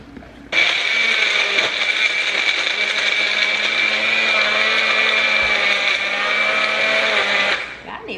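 A personal bullet-style blender whirs through a banana and fruit smoothie, a loud, steady motor drone that starts abruptly, holds evenly for about seven seconds, then cuts off.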